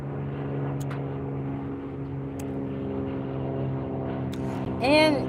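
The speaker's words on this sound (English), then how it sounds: "We got a plane going over our heads." A propeller airplane passes overhead in a park on a fine day, a steady droning hum with rising and falling harmonics that swells slightly near the end, continuous and moderately loud.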